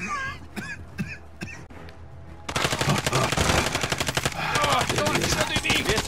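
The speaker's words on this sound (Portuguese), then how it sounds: "Estão atirando em mim!" Gunfire in Call of Duty Warzone, a few scattered shots at first, then a loud sustained burst of rapid automatic fire that fills the rest of the moment.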